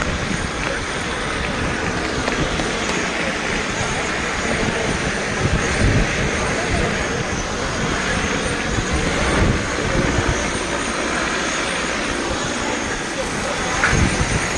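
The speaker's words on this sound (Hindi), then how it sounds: "हमारा काम आसान बनाने के लिए लॉजिस्टिक्स ड्रोन मौजूद है जो सप्लाईज को तुरंत पहुंचा पाएंगे" Military logistics drones flying in the mountains of Ladakh, a steady, broad whirring roar that stays level throughout with no clear breaks, moderately loud and continuous.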